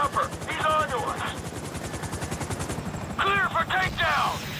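An FIB helicopter in the video game GTA 5 thrums with a rapid, steady rotor beat throughout a raid mission, while gunfire bursts and character voices shout over it.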